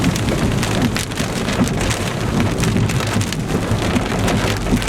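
Heavy rain pours during a tornadic thunderstorm in Streator, Illinois, a dense, loud, steady roar of drops hammering surfaces with no letup across the whole stretch.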